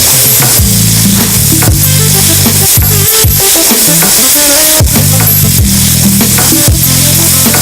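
Raisins cooking with sugar in a pan, a loud close sizzle punctuated by repeated sharp scrapes and clanks of stirring against the pan, with a low hum underneath.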